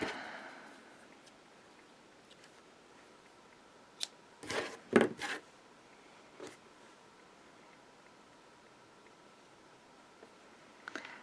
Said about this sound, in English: Let's get our scissors.